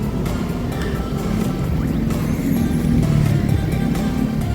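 Congested traffic on a city flyover in Bandung, heard as a steady loud rumble of car and motorbike engines idling and creeping, close and continuous with no break.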